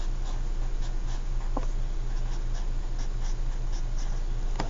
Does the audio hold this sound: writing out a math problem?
yes